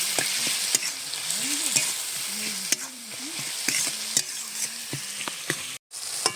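Thick spice paste of tomato, turmeric and salt fried in a pan for a spicy winter fish curry, with steady sizzling under repeated scraping spoon strokes, close and fairly loud, briefly cut off near the end.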